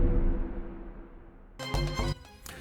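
A decaying, reverberant tone fades out, then a chopped, stuttering hit enters with bright, rhythmic cuts over deep low-end booms.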